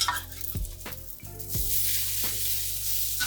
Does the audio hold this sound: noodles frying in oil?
yes